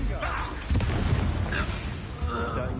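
A Confringo fire-blast spell explodes in Hogwarts Legacy, a loud boom and burst near the middle over ongoing combat noise, with a voice calling out around it.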